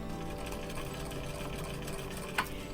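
A sewing machine stitches a doll dress skirt onto its bodice under the presser foot, running as a steady, quiet mechanical whir throughout, with a brief click near the end.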